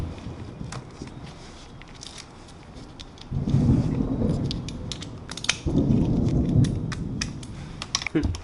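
Thunder from a passing thunderstorm rumbles twice in long, low, fairly loud swells, with scattered sharp clicks and taps in the foreground.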